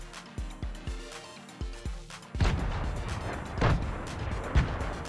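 Grenades in Fortnite land with a run of hollow bouncing thuds, then burst into loud, rumbling explosions, with a few heavy blasts rolling over one another close by.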